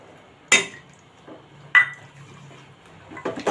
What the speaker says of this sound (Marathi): इथे मी फ्लॉवर घालत आहे आणि हिरवे वाटाणे जे मटार आहेत